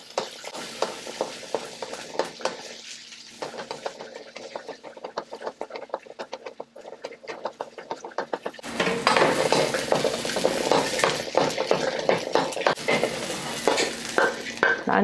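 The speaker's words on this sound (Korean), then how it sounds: "새우를 이렇게 한 번씩 시간 나는 옆에서 볶아주시고요." Dried shrimp and garlic are stir-fried in a pan, with a spatula scraping and clicking against the metal in a quick, steady rhythm. A soft sizzle underneath grows noticeably louder and busier partway through.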